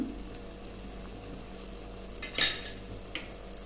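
Okra and tomato curry stirred in a pan, heard as a low steady background with a couple of brief, soft scraping strokes from the spoon partway through.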